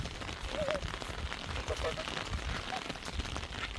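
Steady rain pours over rural farmland and an animal pen during a day-and-night September downpour, a constant close hiss that never lets up, with a few faint chirps above it.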